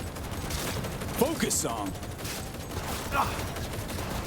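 Gunfire rattles in the middle of a Cyberpunk 2077 firefight as dense, continuous bursts with mechanical clatter and shouted voices over them.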